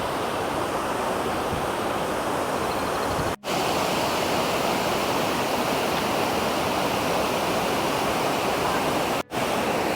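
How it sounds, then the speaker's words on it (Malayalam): Water from a cave spills over a small waterfall in Bosnia, a loud, steady rushing close by with no talk. "വെള്ളം ഇവിടെ ചെറിയൊരു വാട്ടർഫോൾ ഉണ്ടാക്കിയിട്ട് ഇങ്ങനെ ഒഴുകിയിട്ട് ഇങ്ങനെ അങ്ങോട്ട് ഒഴുകി പോകണം."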